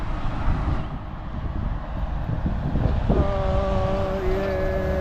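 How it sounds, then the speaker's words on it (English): A B-double truck passing on a rural road in Western Victoria, a loud rumbling drone building and swelling nearby, with a tonal whine appearing as it goes by; no talk. "Cars, trucks, here comes a truck."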